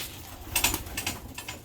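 Racing pigeons come in to land, with bursts of wing flapping close by over a low background rumble, brief and lively.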